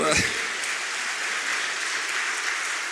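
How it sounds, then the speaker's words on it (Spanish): Church congregation clapping during a service, a thick, continuous burst of applause from many people, with a brief voice at the very start before the clapping carries on alone. "Aplaudan al Señor"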